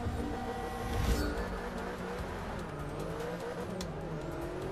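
A Lotus Esprit V8 race car engine in Forza Motorsport 6 on track, a steady throaty drone that swells as it revs, with shifting pitch and a brief rise near the start.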